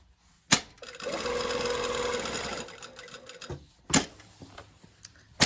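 A sewing machine stitches along fabric in a steady whirring run lasting a couple of seconds, framed by sharp clicks and knocks from handling the machine before and after.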